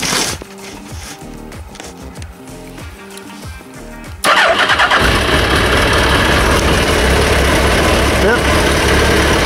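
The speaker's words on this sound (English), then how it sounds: "Starts on the button, nice and easily. RPM as they should." A Suzuki Hayabusa motorcycle engine cranks briefly, then starts after an ignition coil replacement and settles into a loud, steady idle close by.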